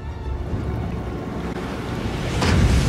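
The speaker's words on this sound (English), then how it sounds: "For some reason, the water's slow-mo, but Scott is not." Ocean water from an Ant-Man movie scene rumbles and washes as a steady broadband surge that swells louder toward the end, with no voices present.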